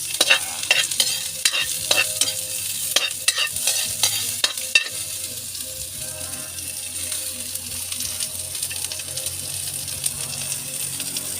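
Garlic and onion stir-fried in oil for native chicken give a steady close sizzle, with a run of sharp spatula clanks and scrapes against the pan early on that stop, leaving the frying alone.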